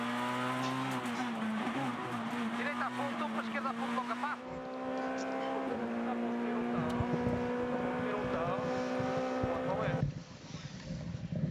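Rally car descending a special stage on the Monte Carlo Rally between Peïra Cava and La Bollène, its engine droning loud and steady with pitch shifts as gears change, wind buffeting the microphone and a voice talking over it.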